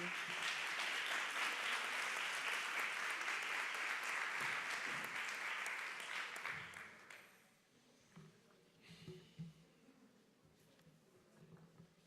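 An awards ceremony audience applauds loudly and steadily for about seven seconds, then the clapping fades away into quiet room noise with faint scattered sounds.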